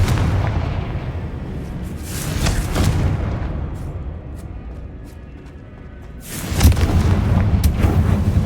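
The Confringo blasting spell in the Hogwarts Legacy video game sets off heavy, booming explosions, a few deep blasts with rumbling decay and a big close burst near the end, with no talk over them.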